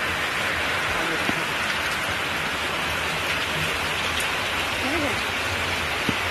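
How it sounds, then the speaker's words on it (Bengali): Heavy rain pours down steadily, making a dense, even hiss with occasional louder drops close by, and no one is speaking. "এই দেখুন কি বৃষ্টি পড়ছে,"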